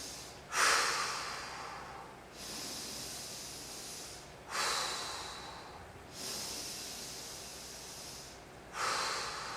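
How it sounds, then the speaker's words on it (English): Deep slow breaths drawn in through the nose and pushed out through the mouth, about four long airy hissing exhalations in a steady rhythm, close and fairly soft, with no talk. "Always through the nose first, out through the mouth, empty out the lungs."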